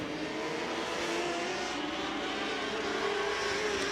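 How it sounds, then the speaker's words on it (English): Race cars roar around a speedway oval at the Marysville Nationals, a continuous loud engine drone with no breaks or distinct passes, heard from a distance without commentary. "Cars starting to string themselves out all over the speedway."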